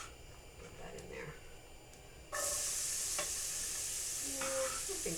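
Shallots dropped into a hot pan for risotto hit with a sudden loud, steady sizzle that carries on to the end, with light stirring and utensil clinks layered over it.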